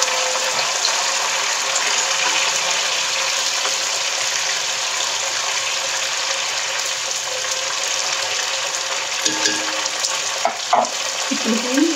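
Chopped tomatoes fry with browned ingredients in a pan for a Nellore-style fish curry, giving a steady, loud, close sizzle throughout, with a few light utensil clinks near the end.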